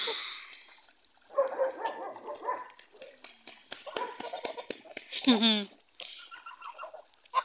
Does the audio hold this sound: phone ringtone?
no